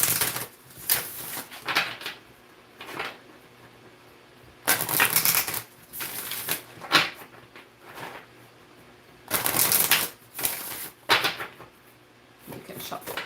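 Oracle cards are shuffled in repeated bursts of crisp riffling and flapping, several rounds with short pauses between, close up.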